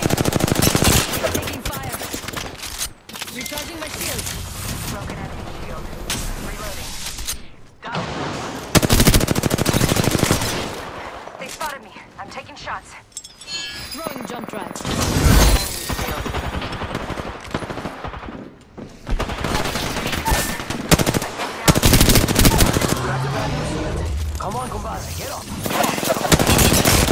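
Rapid automatic gunfire from an Apex Legends match on PS5, bursts of loud sharp shots and booms separated by short lulls, with a voice speaking intermittently over the action.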